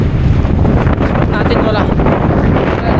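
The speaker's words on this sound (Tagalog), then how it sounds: "Napakahangin talaga kasi." Heavy northeast monsoon wind in a mangrove area buffets the microphone in a constant loud rumble throughout, with some faint talk and rushing air on top.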